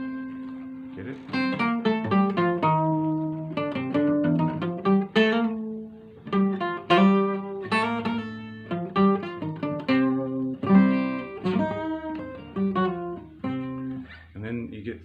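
A 12-string guitar in C plays a Dorian mode scale starting on C, bright doubled-string notes picked one after another in a loose ascending and descending run, close and moderately soft, with no talking.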